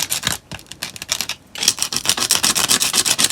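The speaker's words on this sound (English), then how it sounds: "just get some coarse sandpaper just sand the plastic down to make it smooth. I'll also just do a little bit of sanding" Coarse sandpaper rubs over a plastic droid hand part in fast, repeated close strokes, a brief pause splitting the rasping into two bursts.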